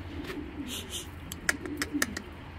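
Pigeons coo softly nearby among several birds, with a few sharp chirps and faint background murmur.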